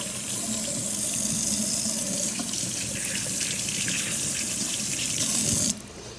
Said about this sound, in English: Wash your hands, of course.